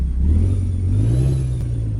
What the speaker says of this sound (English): listening to the engine